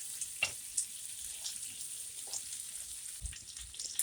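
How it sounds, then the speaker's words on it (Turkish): A spoonful of butter melts and sizzles in a frying pan for a Kayseri manti sauce, a steady close hiss with faint pops and a few light stirring clicks. "Şöyle bir kaşık kadar tereyağımızı tavamıza koyuyoruz."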